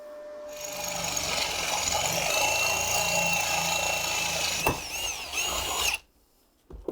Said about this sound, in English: All it needs is some holes drilled for mounting the actual registration plate